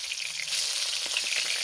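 Pieces of Indian mackerel (bangda) fish fry in a pan with a continuous, close crackling sizzle, heard alone for a short stretch.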